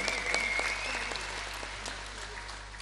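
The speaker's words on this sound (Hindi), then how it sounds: "जोरदार तालियां" An audience at a Ravindra Natya tribute concert applauds the performing musicians with steady, moderately distant clapping that holds throughout.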